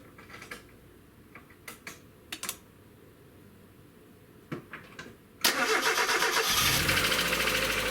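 A 1994 Mazda Miata with an extended-cranking fault, preceded by several faint clicks and taps, then the engine cranks and catches near the end, running loudly and steadily up close.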